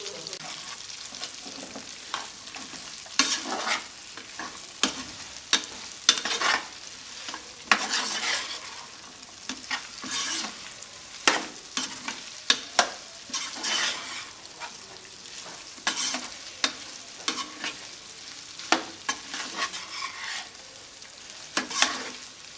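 Chicken thighs frying in hot oil in a pan, with a steady sizzle broken by many sharp stir and spatter bursts, close and fairly loud throughout with no talking.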